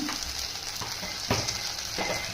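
Ginger garlic paste fries in a pan for Burra gunju curry, giving a constant, crackling sizzle with a bright hiss. A few louder stirring scrapes punctuate it, and no one speaks.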